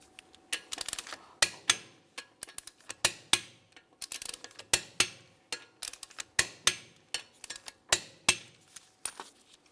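Repeated sharp metallic ratchet clicks from a torque wrench tightening lug nuts on a 2011-2018 Volkswagen Jetta wheel, in quick bursts with short pauses, close and clear.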